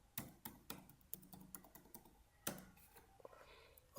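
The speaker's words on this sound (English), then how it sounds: "I'm just typing a random number, so don't try to call." Keys click on a computer keyboard in quick irregular bursts, close and fairly quiet, with short pauses between strokes.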